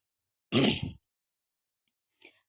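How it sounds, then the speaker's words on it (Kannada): A single harsh cough or throat-clearing burst, close and loud, from a cook frying ingredients in ghee for a sweet potato payasam, followed by a faint short noise and then silence. "ನನ್ನ ಗಂಟ್ಲೆ ಸರಿ ಹೋಗ್ತಾ ಇಲ್ಲ ಗೊತ್ತಿಲ್ಲ ಏನಾಯಿತು ಅಂತ ಅವಾಗವಾಗ ಕೆಮ್ಮು ಬರ್ತಾ ಇರುತ್ತೆ"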